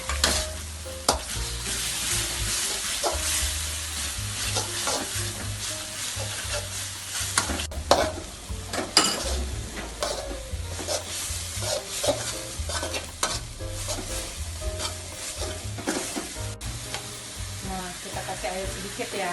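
Clams stir-fry with ground chili, sugar and tomato in a hot pan, giving a continuous loud sizzle broken by frequent scraping and clinking strokes of a spatula, with no talking.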